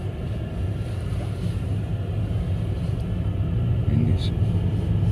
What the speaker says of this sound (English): driving to work